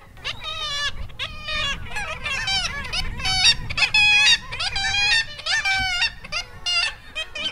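Seabirds calling to one another near a boat off Tromsø, Norway, with a dense chorus of loud, repeated honking, trumpet-like cries close by and low engine or wind noise beneath.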